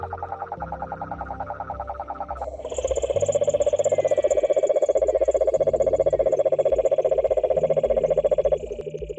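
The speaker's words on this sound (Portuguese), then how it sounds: "o canto do sapo cururu estabelece um compasso que acompanha a vida noturna nos igarapés" Cane toads (sapo cururu) call at night along Amazon rainforest streams, a dense, steady pulsing trill that swells loud and continuous over a busy chorus of other night frogs and insects.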